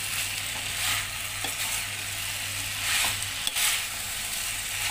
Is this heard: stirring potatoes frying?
yes